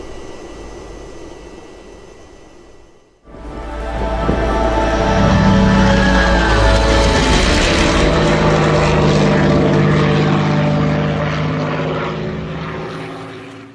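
An Avro Vulcan bomber in a flight simulator flies low. The quiet airflow jumps abruptly into a loud, sustained engine roar with whining tones that holds strong before slowly easing.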